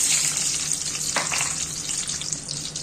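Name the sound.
eggs frying in mustard oil in a wok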